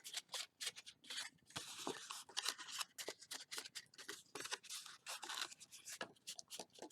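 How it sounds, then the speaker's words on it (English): Paper is folded along scored lines into mountain folds for a small paper coffee mug, giving a string of close, soft crisp creases and rubbing sounds with no talk. "So just go right along and fold each of them up."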